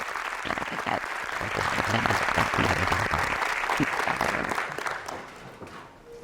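Audience at the EARLI 2023 conference keynote applauds to welcome Prof. Crina Damsa, a dense, steady wash of many hands clapping that holds loud throughout and thins out near the end.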